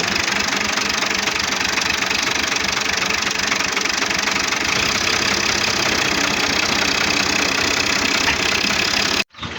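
A tractor's engine idles in a steady, loud, close rumble with a knocking edge on a Punjabi farm, running unbroken for about nine seconds before stopping abruptly.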